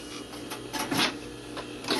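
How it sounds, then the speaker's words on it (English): A sewing machine edge stitching around the outside of a welt pocket, running in a steady mechanical whir with a few louder rhythmic surges over a couple of seconds. "You could go ahead and then edge stitch all the way around the outside of your welt."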